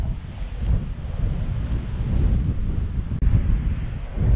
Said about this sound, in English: you don't realize how strong 50 mile an hour wind is until you're in it